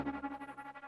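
Short synth mid-range part from a breaks track produced in Ableton, a pulsing chordal tone with repeated rhythmic swells sitting between other elements, heard alone and fairly quiet.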